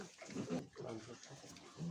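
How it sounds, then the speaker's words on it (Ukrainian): A breeding sow in a farm pen gives a few soft, low grunts in short bursts, faint and close, mixed with quiet background noise. "Така гарна свинка."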